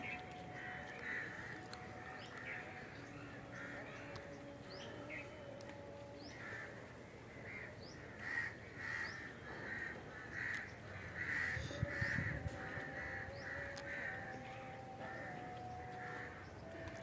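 Crows caw repeatedly at Malkajgiri railway station, their calls coming in loose rows over a low, constant background rumble, moderately distant and fairly faint.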